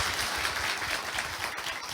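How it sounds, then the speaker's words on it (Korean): Steady applause from an event audience at a social crowdfunding competition for social-economy enterprises in Daegu, a dense continuous patter of many hands with no voices over it. "박수가 필요할 것 같습니다."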